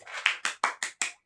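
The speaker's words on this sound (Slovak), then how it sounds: "Potlesk." Five or six quick, sharp hand claps in an even rhythm, close and fairly loud, with no voices over them.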